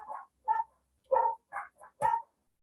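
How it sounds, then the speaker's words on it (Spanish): Dogs scuffling in a fight, giving six short, sharp barks and yelps in an uneven burst, fairly close and loud against otherwise quiet surroundings. "se agarraron mis perros"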